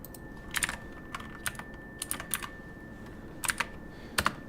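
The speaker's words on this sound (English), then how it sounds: "My keyboard has a lot of clicky clacks." Clicky computer keyboard typing in short bursts of sharp keystrokes with pauses between, close and fairly quiet, no voices.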